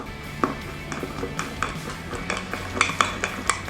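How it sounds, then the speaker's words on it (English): A spoon stirring keto chocolate cake batter in a mug, with repeated clinks and taps of metal against the ceramic in an irregular rhythm, plus soft scraping between strikes, close and clear without talk. "now it's just a simple matter of mixing everything through until it's all well combined"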